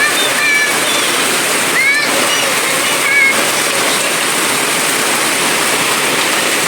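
Steady broadband rush of water pouring or falling, continuous and close, with faint high chirps now and then over it.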